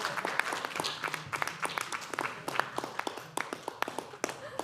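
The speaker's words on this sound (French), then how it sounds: "Réveillez-vous, applaudissez" Scattered applause from an audience at a Sorbonne Université doctoral graduation ceremony, with individual claps standing out sharply rather than merging into a roar, moderately loud and steady for a few seconds.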